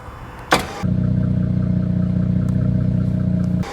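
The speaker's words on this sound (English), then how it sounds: "You have to push and hold these for 3 seconds to engage the winch" A Warn Platinum winch engages from its remote: a sharp click, then a steady, loud motor hum that holds for about three seconds before cutting off.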